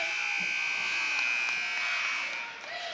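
A long, loud electronic buzzer at a high school boys' basketball game sounds steadily for nearly three seconds, a sustained tonal blare over faint gym crowd murmur before it cuts off.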